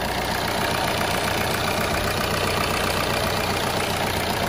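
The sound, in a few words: Suzuki Ertiga 1300 cc diesel engine idling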